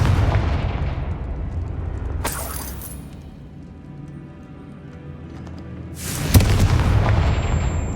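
Confringo fire spell blasts in Hogwarts Legacy: a loud booming explosion with a bright crackling burst near 2.2 seconds, a rumbling lull, then a second heavy blast around 6.3 seconds that rolls on to the end.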